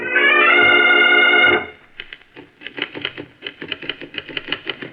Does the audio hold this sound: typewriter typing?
yes